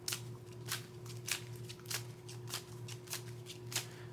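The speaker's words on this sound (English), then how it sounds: "I don't know why I'm shuffling, I guess just force of habit as usual." A Yu-Gi-Oh! card deck is shuffled in a steady series of crisp riffling bursts, close and fairly quiet over a low constant hum, with no talking.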